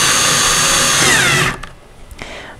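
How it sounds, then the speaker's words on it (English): A power drill on a low torque setting drives screws into a wooden Badger Basket doll high chair, giving a close, loud steady whir for about a second and a half before stopping, followed by faint handling noise. "I'm going to be using a drill to make it go a little bit faster"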